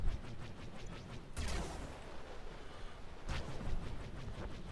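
Sustained rapid weapon fire from a ship's main gun in Star Wars: The Old Republic space combat, a dense continuous rattle with two sharper bursts standing out, steady and fairly loud throughout.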